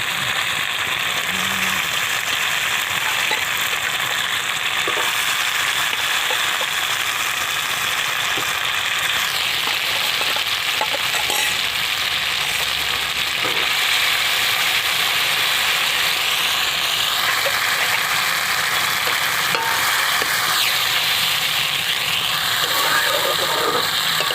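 Rohu fish added to hot spiced masala in oil for tel jhal, giving a steady bright sizzle and crackle that runs the whole time, with faint clinks and scrapes over it.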